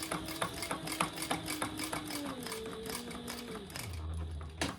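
A sewing machine stitches the side seam of a shoulder bag, a rapid rhythmic patter heard up close and fairly quiet, its motor pitch sliding lower as it slows near the end.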